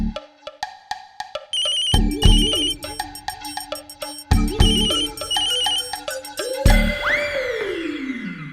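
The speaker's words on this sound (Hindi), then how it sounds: "बुई का फोन।" A phone ringtone plays loud and close, a melodic electronic tune repeating its phrases several times in steady cycles, ending with a rising swoosh, with no one talking.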